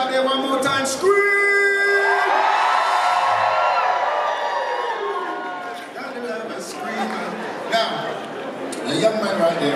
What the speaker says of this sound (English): all the ladies out there, one more time, scream!